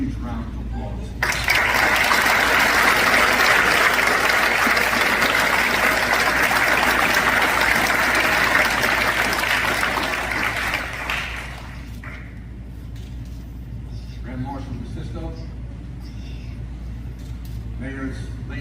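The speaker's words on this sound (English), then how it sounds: "Please join me in recognizing these great American veterans with a huge round of applause." Loud, sustained audience applause for veterans at a 2024 Memorial Day service in Pelham, New York, hosted with American Legion Post 50, rising sharply and holding for about ten seconds before fading to scattered claps and crowd murmur.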